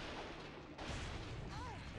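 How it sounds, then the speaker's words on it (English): An electric cannon fires in The Legend of Spyro: A New Beginning on PS2, a dense, continuous blasting roar that stays loud throughout, with game sound effects layered over it. "Electric cannon."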